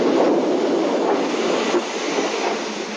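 A steam tank locomotive of the 282 class works at a 1970s Porto Trindade station, giving a steady, loud rumble and hiss of rolling stock with faint rail clatter and no voices.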